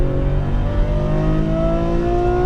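A Ferrari F12 Berlinetta engine pulls hard on throttle, its loud, close, steady tone rising smoothly in pitch through the whole stretch with no talking.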